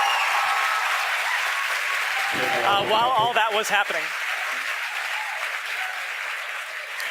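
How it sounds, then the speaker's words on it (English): A crowd at SpaceX headquarters in Hawthorne applauds and cheers in a dense, continuous roar that fills the whole stretch, with a voice briefly speaking over it in the middle. "The crowd's going nuts here at SpaceX headquarters in Hawthorne."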